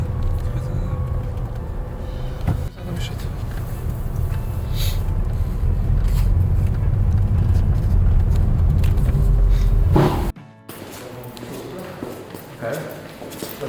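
A car drives along a road on a trip toward Gdańsk, with steady low road rumble and engine hum under intermittent talk, then a sudden drop to a quieter cabin near the end.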